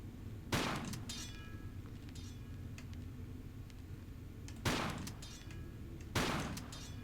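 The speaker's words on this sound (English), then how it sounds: "Shotgun." Shotgun blasts in the video game Into the Catacombs, three loud sharp booms spaced apart over a low ambient hum, with faint ticking between them and no talking.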